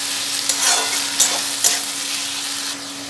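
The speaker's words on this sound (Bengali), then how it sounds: "আর দিয়ে দেব বড় চামচের এক চামচ আদা, রসুন আর কাঁচা লঙ্কার পেস্ট। দিয়ে আমি একটু নেড়ে চেড়ে নেব।" Ginger, garlic and green chili paste sizzles in hot oil in a pan for Bengali-style kabli chana ghugni, with a steady fry hiss and a few scraping stirs from a spoon.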